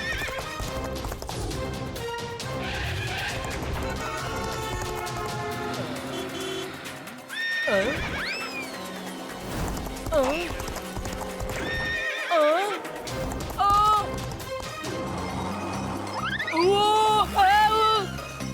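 A cartoon horse whinnies in shrill rising calls between quick clip-clop hoofbeats of galloping, set against lively background music and sound effects.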